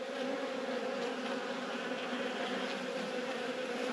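Honey bees hum steadily inside an open hive during a late-season inspection, a dense, even buzz close to the frames that holds at a calm, constant level without pauses.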